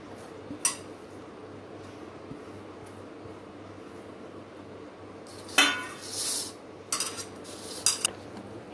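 Tomato, coriander and chilli being mixed in a bowl, soft background with scattered clinks and brief bursts of scraping and tapping against the bowl, growing busier toward the end, no talking.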